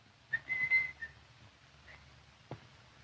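A person whistles a few short, clear tones indoors, one held note in the middle, followed by a low background hum and a sharp knock near the end, set in a 1944 Charlie Chan mystery.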